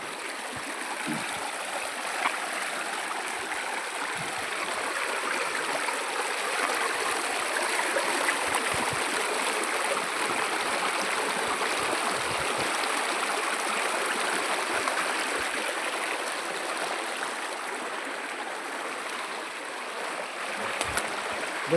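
A stream in the Palakonda hills near Kadapa rushes toward a waterfall, producing a steady, even wash of flowing water throughout with no voices.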